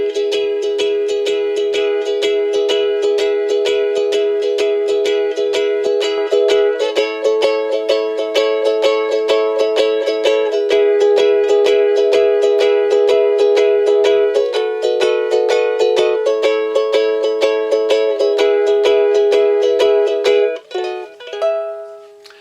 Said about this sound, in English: If we switch back to the E-tuned ukulele and use the same shapes